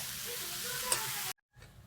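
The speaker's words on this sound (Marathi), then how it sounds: "आता बघा खोबरं आणि गूळ दोन्ही मिक्स करायचं चाललेलं आहे मोदक करण्यासाठी." Grated coconut and jaggery being mixed for modak, a soft continuous stirring and sizzling texture that cuts off abruptly near the end, then a faint return.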